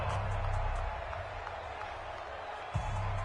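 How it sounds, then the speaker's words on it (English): Stadium crowd in a PS4 football video game, a steady roaring wash of cheering and applause from a big crowd ahead of a third down, swelling again near the end. "the crowd getting into it as we come up on a big 3rd down"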